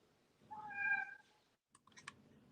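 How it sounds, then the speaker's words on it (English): A cat in a home craft office gives one clear, fairly close meow, followed after a short silence by a few light clicks. "you guys hear? I have a grand cat with me"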